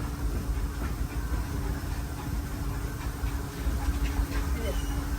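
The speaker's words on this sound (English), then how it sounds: "please remain seated until the train comes to a complete stop" A Disneyland Railroad train rolls along its rails with a steady low rumble and faint rhythmic clatter, heard from on board at moderate level while an announcer's voice speaks over it.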